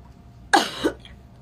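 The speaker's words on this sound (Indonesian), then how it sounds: "Iya, aku emang lagi agak batuk" A single sharp cough from someone with a slight cough, close and loud, followed by a softer short after-sound, then quiet.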